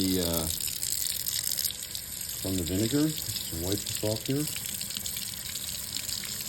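A naked egg, soaked in vinegar until its shell dissolved, is rinsed under a running tap, giving a steady broad water wash throughout while a person talks over it.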